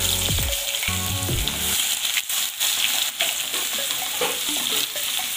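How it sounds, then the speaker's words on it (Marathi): Garlic dropped into hot oil already crackling with mustard seeds and cumin gives a loud, continuous sizzle and frying hiss, with a brief burst of spluttering pops at the start and stirring noises throughout. "जिरे देखील छान फुलून आले आहेत, त्यात आपण आता लसण घालणार आहोत।"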